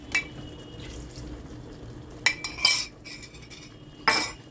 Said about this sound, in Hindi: अब हम इस बाउल में पानी डालेंगे और ये भी मसाला इसी में डाल देंगे।